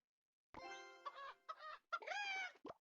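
A chicken in a video game clucks and squawks in several short, bright bursts with brief gaps between them, fairly close and with no talking over it.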